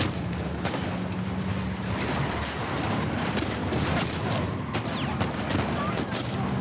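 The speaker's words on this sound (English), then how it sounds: "I'm shooting the driver." Dense, continuous gunfire fills a video game firefight in The Last of Us Part 2, rapid shots aimed at a vehicle's driver rattling nonstop, with voices talking over the shooting.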